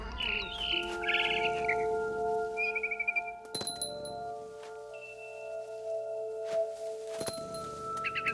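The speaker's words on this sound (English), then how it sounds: "Then I heard chirping outside my window." Bright bird chirps and tweets trill over sustained tonal music with a few sharp clinking hits, from the game What Remains of Edith Finch, close and fairly quiet.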